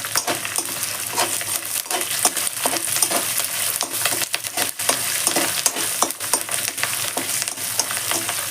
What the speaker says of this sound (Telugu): ఒక గుప్పెడంతా కరివేపాకు వేసుకొని మంచిగా వేయించేస్తాం.